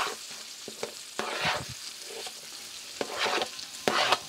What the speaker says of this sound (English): We're going to put a little butter. We're going to do our vegetables first.